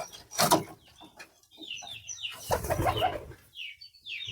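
Pigeons flutter down from a loft to feed, with two bursts of wing flapping near the start and middle, followed by softer rustling and faint chirps.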